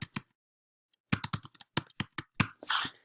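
A title is typed on a computer keyboard: a brief pause, then a quick, close run of crisp key clicks ending in a longer clack like the space bar or enter key.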